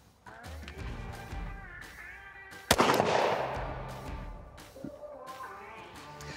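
One sharp pistol shot during a drawing practice drill, a single loud crack with a short ringing tail, set among quieter handling noises and low background sound.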